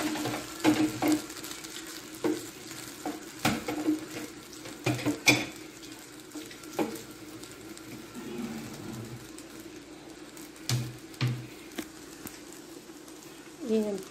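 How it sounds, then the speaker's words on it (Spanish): Dry pasta stirred and frying in melted margarine in a pan, with a soft sizzle under repeated scraping and clattering strokes of the stirring utensil, irregular and fairly close. "revolver para que se sofría tantito, agarre el sabor de la margarina"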